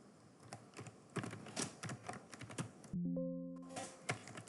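A computer keyboard types a sudo command to restart a Postgres service on an EC2 server: a quick run of close, crisp key clicks, then a short pause and a few steady electronic beep tones near the end.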